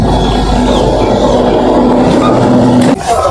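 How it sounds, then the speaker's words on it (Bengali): An SF Express train pulling out of Purulia Junction platform 4: a steady, loud rumble of rolling carriages with a faint sustained tone, continuous throughout, ending in an abrupt clunk near the end. "এবার আমাদের ট্রেন ছেড়ে দিয়েছে"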